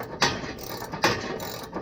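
A hand ratchet tightening muffler bolts during a muffler delete on a car, giving two sharp clicking bursts with short runs of fainter ratchet clicks between them, close and fairly quiet, with no talking.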